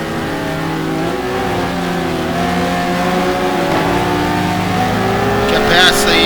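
GT2-class race cars at Le Mans in a sim race, a loud, steady engine drone holding high revs on the Mulsanne Straight, rising slightly toward the end with a brief tyre or braking squeal.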